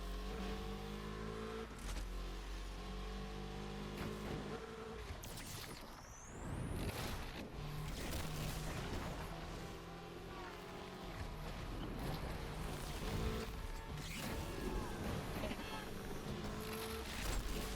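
Racing cars roar through a video game race on a night track, engines revving and droning continuously with shifting pitch as cars jostle, loud and close throughout.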